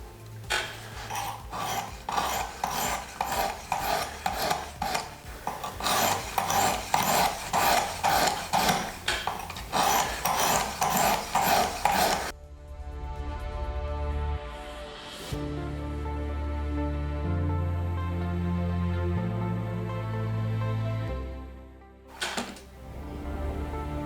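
A knife is sharpened on a Work Sharp Precision Adjust sharpener, rapid rhythmic rasping strokes repeating close up for about twelve seconds, followed by quieter humming tones and a brief scrape near the end.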